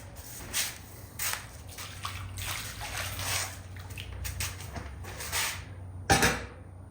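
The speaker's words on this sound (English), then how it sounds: "Kind of a little final rinse here." Water splashes and trickles across a discada cooking disc during a final rinse, arriving in uneven bursts with scrubbing and metallic knocks, close by with no talk.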